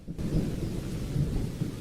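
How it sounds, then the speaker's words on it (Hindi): Heavy rain with rumbling thunder in a Hindi cartoon about a sparrow family guarding its nest in a storm, a dense, steady downpour with low thunder swelling twice, loud and close with no talk. "बारिश इतनी तेज हो रही थी।"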